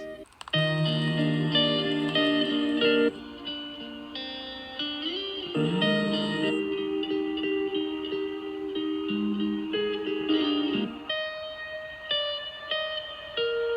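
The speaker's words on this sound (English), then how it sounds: "There's actually 3 guitar loops that are being played" Several layered, sustained guitar tones overlap and shift, forming a continuous processed loop with effects, no voices.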